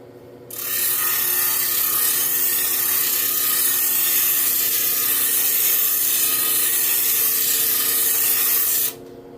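Soft ruby-bearing stone pressed against a 180 grit grinding wheel, giving a loud, steady abrasive hiss that starts sharply, holds evenly for about eight seconds over a faint machine hum, then cuts off.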